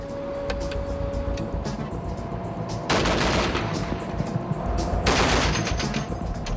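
.50 caliber M2 machine gun on a Stryker armored vehicle firing two loud, rapid bursts of heavy automatic fire, close and dense, with a mechanical hum between.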